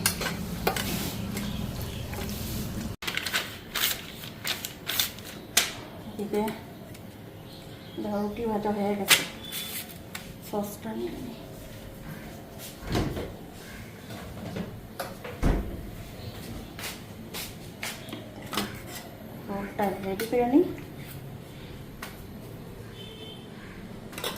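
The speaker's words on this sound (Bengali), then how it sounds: "শশা ধনিয়া পাতা দিয়ে মাইখা নিলাম" Cucumber, coriander leaves and onion being mixed by hand in a bowl, with soft intermittent squelching and rustling bursts, close by, alongside occasional clattering and speech.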